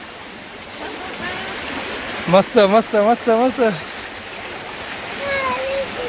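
Steady rushing of flowing stream water on Konkan farmland in Ratnagiri throughout, with a person briefly calling out excitedly over it.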